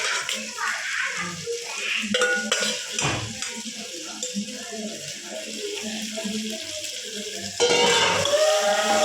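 Chicken being stirred and turned while frying in a pan for a homemade biryani, with steady scraping and clinking of a utensil against the pot over a soft sizzle, louder toward the end.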